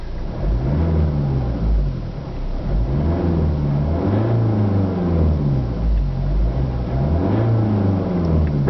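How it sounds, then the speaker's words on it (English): A 2012 Opel Insignia Sports Tourer ecoFLEX engine heard from inside the cabin, revving steadily to about 3000 RPM in repeated rising and falling sweeps. It is a low, smooth, muffled drone, with no talking. "It's about 3000 RPM. It's a very quiet engine."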